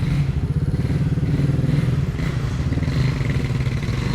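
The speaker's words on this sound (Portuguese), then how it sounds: "Mas eu vou estacionar a moto aqui, né?" A motorcycle idling as it is parked at a street curb in Encarnación, a loud steady engine putter with some clattering and scraping underneath, close to the listener and with no talk.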